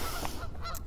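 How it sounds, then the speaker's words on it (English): Geese calling overhead in a brief burst of two or three nasal honks, fairly near and clear, with no talking. "the geese are just with us"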